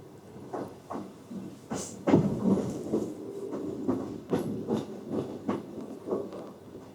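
An old, not very modern Russian train carriage rattles along the rails, with a run of irregular clacks and knocks over a low rumble, heard from inside the car at moderate volume.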